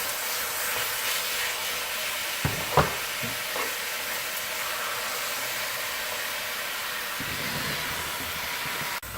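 Ground turkey sizzling in a pan for a homemade lasagna meat sauce, a steady hiss that holds throughout, broken by a few brief scraping stirs, with no talking.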